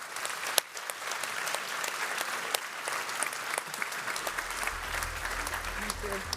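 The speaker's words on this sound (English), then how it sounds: "A round of applause." An audience applauds at the close of a panel at the CDP Awards Europe 2024, a steady dense clapping from a large room that carries on evenly throughout, with a low hum entering near the end.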